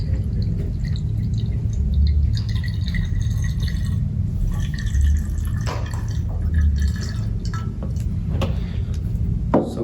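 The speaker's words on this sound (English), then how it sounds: "we're gonna take 250 milliliters of water and pour it into a glass container" Water, 250 millilitres, is poured into a glass container, giving a continuous splashing, trickling fill close to the microphone for about ten seconds with no talking.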